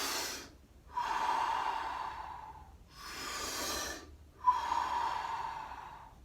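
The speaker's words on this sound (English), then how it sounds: "these deep breathing exercises, you can create this vortex of air which comes in through your mouth" Slow, deep breaths drawn through the mouth in a breathwork exercise: three long airy rushes, each about a second and a half, with short quiet gaps between, close to the mic.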